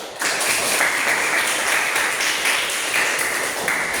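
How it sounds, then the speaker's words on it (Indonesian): A classroom of students applauds together after questions have been answered in an Islamic religious education lesson, a steady, dense wash of clapping that holds at an even level for the whole stretch. "Maka kita berikan tepuk tangan untuk pertanyaan-pertanyaan yang sudah dijawab."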